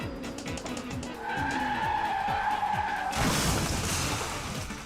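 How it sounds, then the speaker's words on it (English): In the racing game Le Mans Ultimate, a hypercar's engine note rises through repeated gear shifts before a sustained tire skid and a harsh collision hit, loud and close, with no talk. "I get hit by another hypercar trying to overtake me because he deemed that I was too slow."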